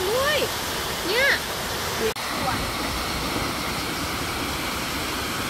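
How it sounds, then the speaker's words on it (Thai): Phat Nyueang waterfall in Sekong, Laos, gives a steady, full rushing roar of falling water, with brief bird-like whistles near the start. "เป็นน้ำตกที่สวยมากๆเลย"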